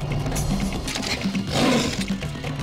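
A lion roars in a low, rumbling, sustained bellow with a harsh texture, repeating in several pulses over a continuous noisy background, fairly close and loud with no talk.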